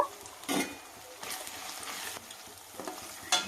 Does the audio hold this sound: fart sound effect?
no